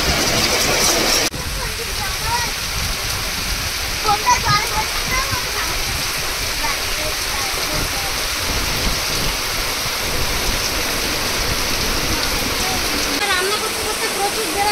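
Steady rain falls in a constant broadband hiss, with faint bird calls and occasional soft thumps coming through the downpour.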